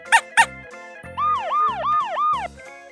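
A toy Starex ambulance from a Power Key shooting-car set gives two sharp electronic beeps, then a loud repeating wail siren sweeping up and down about four times.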